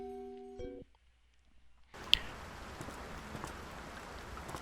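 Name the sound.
rain in a video game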